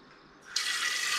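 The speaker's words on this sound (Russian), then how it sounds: "Сейчас я налью сюда воды." Water starts pouring from a tap into a pot for salmon trout fish soup, a sudden steady gushing stream after a brief quiet lead-in, close and continuous with no speech.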